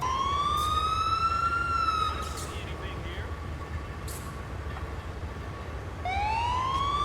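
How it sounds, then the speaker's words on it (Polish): An ambulance siren in the video game GTA 4 wails in rising and falling sweeps, pausing midway and starting again, over a steady low background hum and occasional talk. "karetka podjechała, zatrzymała się i zobaczmy"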